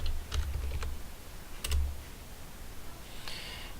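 Quiet clicks of typing on a computer keyboard, a few short bursts of keystrokes separated by pauses, close and soft with no talking.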